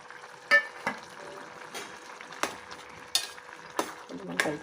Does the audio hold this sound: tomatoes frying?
yes